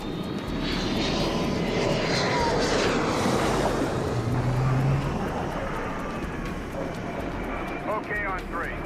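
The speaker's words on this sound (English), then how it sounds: "Once the deck is clear, the landing signal officer talks the plane down." An F-4 Phantom fighter jet roars loudly on approach to an aircraft carrier deck for landing, its engine noise sweeping and building, with radio-style voices talking over the continuous jet rumble.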